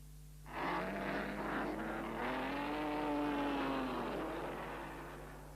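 Auto Union racing cars roar off the start of a 1930s Grand Prix handicap event, a loud engine snarl rising after a quiet opening, with a pitch sweep as they pull away and then slowly fading.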